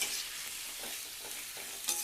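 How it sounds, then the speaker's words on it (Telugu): Tomato pieces fry in a pan over a high flame, giving a steady, close hiss of sizzling with a few faint stirring knocks and one sharper clink near the end. "టమాటా ముక్కల్ని వేసి హై ఫ్లేమ్లో పెట్టేసి"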